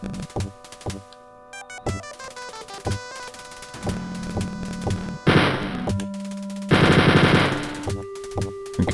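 Gunfire from the old Wolfenstein 3D game: loud bursts of rapid machine-gun fire and single shots mixed with chiptune-style game music and tones, fairly dense, with no voices.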